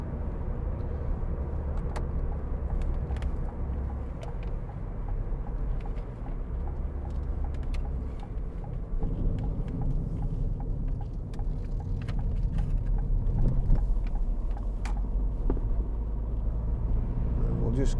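A 2012 Ford Fiesta 1.4 TDCi Zetec diesel hatchback on the move, its steady low engine and road rumble heard from inside the cabin with occasional clicks and bumps, while someone talks over it.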